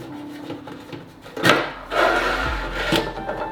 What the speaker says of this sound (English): Now let's open the case.